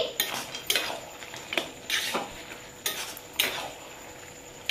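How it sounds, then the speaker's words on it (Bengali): Raw peanuts and chickpeas stirred with a utensil in a cooking pan with a little water: about half a dozen distinct scraping, clattering strokes in an uneven rhythm, close and fairly loud, no voices. "কাঁচা বাদাম আর ছোলা দিয়ে দিয়েছি, দিয়ে ভালো করে নেড়ে দিচ্ছি"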